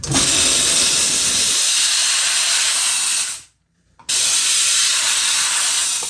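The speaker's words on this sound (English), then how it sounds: "And then we steam them." A jewelry steamer machine blasts steam over white gold pieces, making a loud, continuous close-up hiss that cuts out briefly for about half a second and then resumes.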